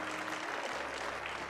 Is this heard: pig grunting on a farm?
no